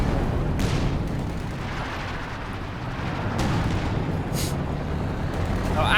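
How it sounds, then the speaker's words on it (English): Artillery barrage in Company of Heroes 2, a WWII strategy game: a steady roaring wall of explosions and distant booms rolling on throughout, with occasional sharper bursts breaking through. "Stupid barrage comes in."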